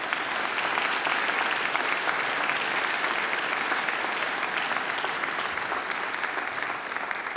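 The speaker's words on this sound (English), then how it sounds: "So she deserves another great round of applause." Audience applause for a singer at a university graduation ceremony, a full, even roar of clapping from a large crowd that stays steady and loud throughout.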